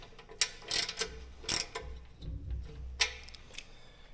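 A ratchet tightens the upper mounting bolts of a gut guard on a Ducati Desert X motorcycle, giving close, irregular clicking bursts and metallic ticks with brief pauses between turns.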